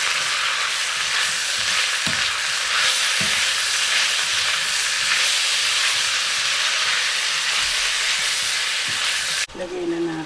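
Octopus sizzles and fries loudly in a hot pan with bell pepper and spring onion, a steady bright hiss broken by a few stirring scrapes, then a sharp clatter near the end.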